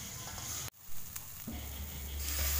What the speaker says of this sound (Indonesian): kita masukkan bumbu yang sudah kita blender tadi. Kita aduk-aduk sampai matang